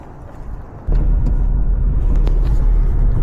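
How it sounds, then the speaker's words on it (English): City bus on the move, a low engine rumble that jumps louder about a second in and then holds a steady drone with faint rattles on top. "Damn, this bus is slow"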